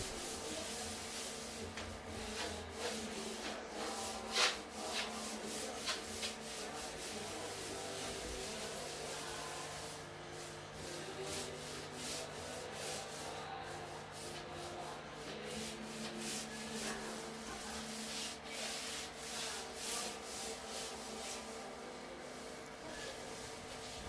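Scrubbing pad rubbing over Ardex WA two-part epoxy grout on penny tile, a steady continuous abrasive scouring that runs the whole time with only small swells in loudness, close and alone with no talk.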